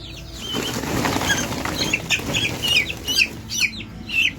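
Chickens cluck and guinea fowl chicks peep in short repeated bursts close by, with a brief rustle of wings and a busy farmyard background.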